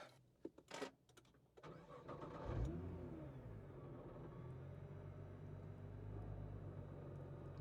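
A few clicks and clunks, then a Nissan R35 GT-R engine cranks, fires with a rising roar, and settles into a steady, low rumbling idle.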